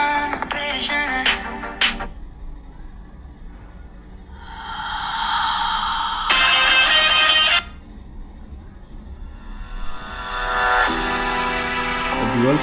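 Music and tones play through the dual speakers of a Nothing Phone 3, with bright bursts and melodic passages alternating with quieter gaps.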